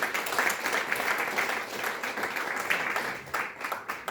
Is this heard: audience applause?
yes